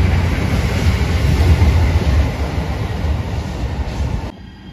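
A JR Shikoku 7200 series local train runs through Marugame Station on the Yosan Line, a loud, close, continuous rumble of wheels and motors that ends abruptly near the finish.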